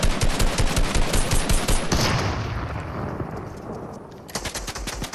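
Loud automatic gunfire in Fortnite rattles in fast continuous bursts, tails off into a fading echo, then a fresh burst of shots returns near the end.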